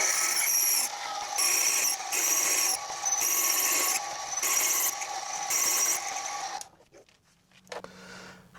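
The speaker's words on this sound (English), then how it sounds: "Let's go in with the letter H drill." Steady grinding of a letter H drill bit cutting a metal base casting, pulsing in regular waves for several seconds before stopping abruptly.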